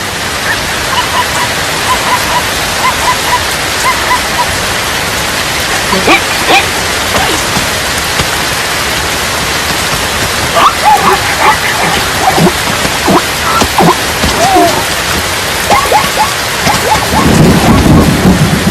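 Heavy rain pours across the African savanna in a loud, constant wash, with thunder rumbling low and a rising roar toward the end.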